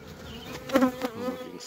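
Honey bees buzz steadily up close, a dense droning hum that swells briefly in the middle.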